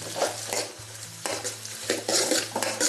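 Small onions sautéing in butter in a pan, with a brisk scraping stir and clinks of utensil against metal over a continuous sizzle, close and fairly loud.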